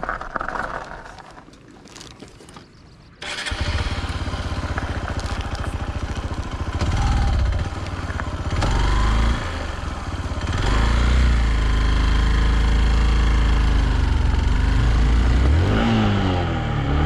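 A motorbike engine idles quietly, then roars up loudly and holds a revving drone that rises and dips as gears are changed on a mountain road route toward Kailash Mansarovar.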